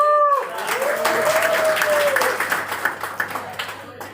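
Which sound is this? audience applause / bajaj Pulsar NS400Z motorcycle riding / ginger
audience applause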